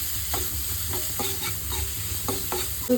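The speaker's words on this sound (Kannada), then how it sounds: "ಈರುಳ್ಳಿ ಇವಾಗ ಚೆನ್ನಾಗಿ ಫ್ರೈ ಮಾಡ್ಕೊಂಡಿದ್ದೀವಲ್ವ" Chopped onion frying in hot oil for an egg Maggi dish, a steady close sizzle broken by several sharp spoon scrapes against the pan, with no voices.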